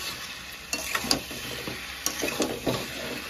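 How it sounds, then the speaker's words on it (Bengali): Chicken and potatoes frying with whole spices, salt, turmeric and chili powder in a pan, with a close, steady sizzle broken by several scraping stirs of a utensil against the pan. "এবার কিন্তু শুধুই এই মশলার সাথে চিকেন আর আলু কষার পালা"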